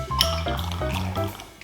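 About 30 ml of cold drip coffee poured into a small cocktail shaker for an espresso martini, a short close liquid pour with a ringing, shifting tone as the metal vessel fills.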